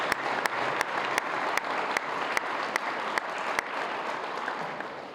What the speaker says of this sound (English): So please give them a really good round of applause.